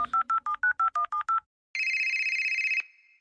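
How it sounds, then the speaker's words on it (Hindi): Nine quick touch-tone beeps in a steady rhythm, a short pause, then a continuous electronic ringing tone that cuts off. "रोहित को फोन करती हूँ।"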